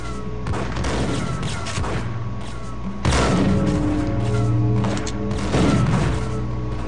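Gunfire in Max Payne Mobile, dense bursts of punchy shots and booms layered over each other with a steady low background hum, close and loud throughout.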